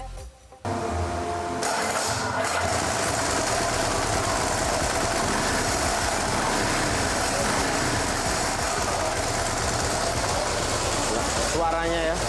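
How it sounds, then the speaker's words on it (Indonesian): A Ducati 999 Fila Edition motorcycle idles with the rattle of its dry clutch, a steady, loud, close mechanical churn that holds unbroken for about eleven seconds after a brief quieter start. "Suaranya ya, khas banget, khasnya dry clutch, enak."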